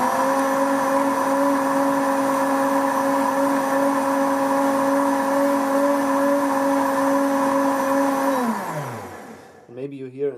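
A blender whirs steadily, mixing ghee into hot keto bulletproof milk. It holds a constant motor hum for about eight seconds, then winds down and stops, leaving brief faint sounds.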